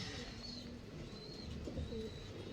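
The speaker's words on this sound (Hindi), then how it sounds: "ये कबूतर है जी।" A Kasuri pigeon, one of a mated loft pair, coos softly and close by, a few low, faint calls over quiet background chirps.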